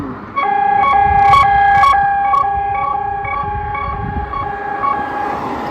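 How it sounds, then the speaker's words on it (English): A Klaxon ES3S emergency siren at the Port Talbot Tata Steel works sounds during a test, a loud steady multi-tone wail that holds for several seconds with slight wavering, heard at a distance outdoors. "This is a test of the TATA Steel emergency siren."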